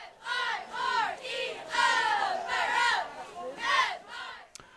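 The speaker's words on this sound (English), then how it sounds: "Let's get fired up from the Bomber cheer squad." A high school football cheer squad at the Macomb versus Elmwood-Brimfield game chants in rhythmic bursts, about eight shouted syllables in steady cadence at moderate distance, ending with a brief sharp knock.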